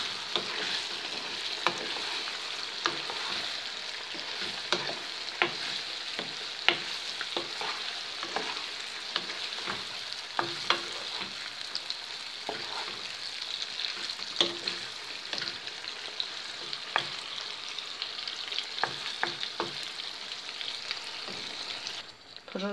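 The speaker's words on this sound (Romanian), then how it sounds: "Acum le prăjim împreună cu ceapa." Romanian pârjoale meatballs fry with onion in a pan, a steady dense sizzle with frequent clicks and taps of stirring throughout, close up and with no talking.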